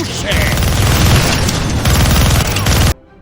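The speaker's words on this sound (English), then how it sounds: "Gonna need both hands to shoot that minigun." Minigun fire in a Deadpool video game, a loud continuous roaring burst of rapid shots that rolls on for nearly three seconds before cutting off abruptly.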